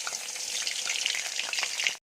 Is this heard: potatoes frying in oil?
yes